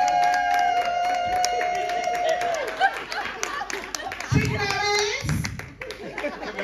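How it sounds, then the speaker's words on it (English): Clapping from the audience at a comedy hypnotist show on the Grand Pier, Weston-super-Mare, scattered and uneven, mixed with crowd noise, voices and a sustained musical tone. "Give a big round of applause."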